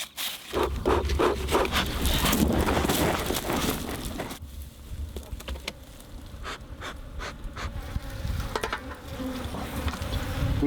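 Honey bees buzz steadily and loudly close by at their hive, a dense continuous drone with no talking over it.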